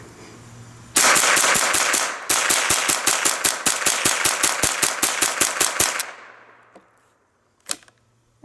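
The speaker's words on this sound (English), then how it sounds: "we are going to be shooting same thing. 22 golden bullet." A .22 long rifle semi-auto fires a rapid string of CCI Mini-Mag golden bullet 36-grain rounds, about twenty loud, sharp cracks in quick, fairly even succession, then a pause and a couple of isolated clicks.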